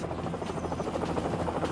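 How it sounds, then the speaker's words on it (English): Steady rhythmic thumping of helicopter rotors, loud and continuous, like gunships flying close overhead. "Helicopter gunships soon arrived to assist."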